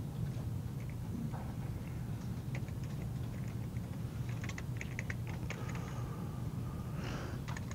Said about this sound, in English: just hit the tab key on your keyboard